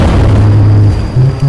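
Bomb explosion sound effect, a loud deep boom with a rumbling low tail that dips and swells again, no talk.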